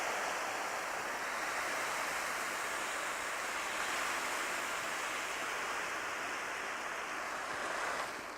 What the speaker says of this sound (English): I'm going to take the desiccant and start pouring it in there